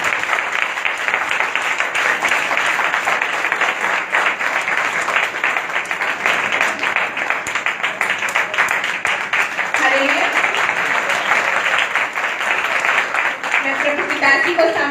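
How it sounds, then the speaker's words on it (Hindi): Church congregation at a Good Friday gathering gives loud, sustained applause, dense continuous clapping that runs throughout with a few voices surfacing briefly near the end. "जोरदार तालियों के साथ ही"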